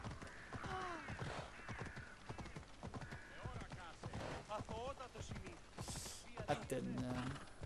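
Rhythmic hoof clip-clops from a horse in Assassin's Creed Odyssey, ridden in Athens, with game sound effects and voices over a steady backdrop.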